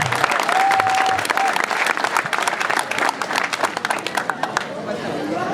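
Wedding guests at a customary marriage ceremony break into loud, sustained applause, dense clapping with crowd chatter and cheering mixed in, fading slightly toward the end.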